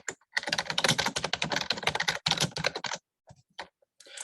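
Fast typing on a computer keyboard, close and clear: a rapid run of key clicks for about three seconds, then a pause and a few scattered keystrokes, with no talking.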